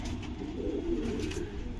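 A Madrasi pigeon coos softly and close by, a low murmuring call that goes on for under two seconds.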